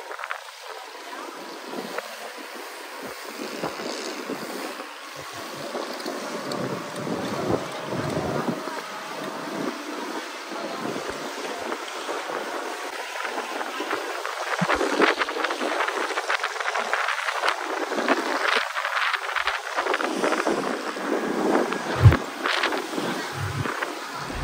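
A tour boat crossing open water on a Phi Phi island trip, its steady engine drone mixed with heavy wind buffeting the microphone and splashing spray, rising and gusting over the whole stretch without speech.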